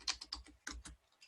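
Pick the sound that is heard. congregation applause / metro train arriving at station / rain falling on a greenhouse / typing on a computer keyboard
typing on a computer keyboard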